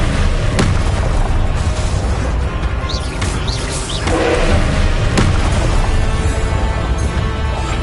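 Spell explosions in the video game Hogwarts Legacy, a dense run of loud booms and bursts with sharp cracks layered over a constant rumbling din, dense and close throughout.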